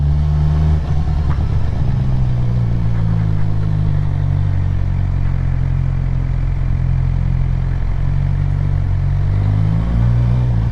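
A motorcycle ridden at a modest speed by a beginner rider gives a steady, loud low engine drone with a faint rise and fall in pitch, under constant wind and road rumble.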